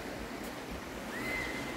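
A strong river rushes into the sea at Mococa beach in Caraguatatuba, giving a brief, soft, steady wash of flowing water.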